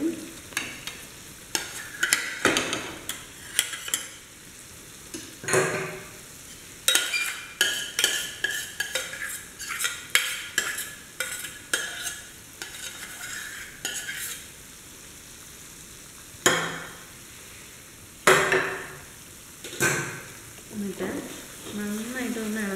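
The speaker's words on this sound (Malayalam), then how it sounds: "നന്നായിട്ടൊന്ന് ഇളക്കി കൊടുക്കുക" Lentil mixture for Ashoka halwa being stirred in a pan over low heat, the spoon scraping and sloshing in irregular bursts with soft sizzling between strokes, close and moderately loud, no talking.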